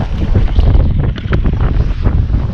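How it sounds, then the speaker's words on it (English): Strong gusts buffet the microphone on a river during a fishing outing, a loud, rumbling low roar that surges and dips continuously with no talk. "it's freaking windy too. You guys can probably hear it"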